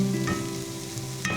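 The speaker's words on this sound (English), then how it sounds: "I'm gonna turn my onions down a little bit and give them a stir" Onions frying in a pan and getting a stir, a steady close sizzle with a soft scrape partway through and a brief clatter at the end.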